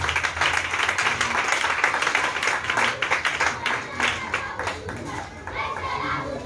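A church congregation applauds together, a sustained wash of clapping hands that rises and then thins toward the end, with voices mixed in underneath.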